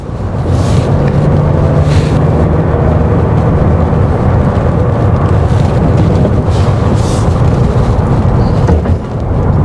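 A 2024 Omoda 5 petrol SUV engine drones steadily and loudly with a deep rumble throughout, a constant low roar of driving under faint road noise.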